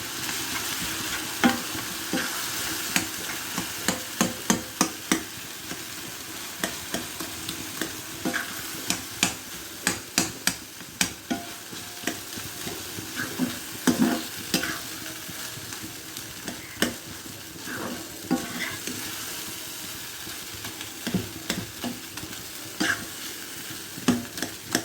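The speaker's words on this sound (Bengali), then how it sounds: "এখন চিড়ে আর কলা মিশিয়ে নিচ্ছি" Soaked flattened rice being mixed with banana in a bowl, a long run of close, irregular scraping and soft squelching strokes from a spoon, with sharper knocks scattered throughout; no one speaks.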